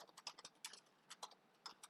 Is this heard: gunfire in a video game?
no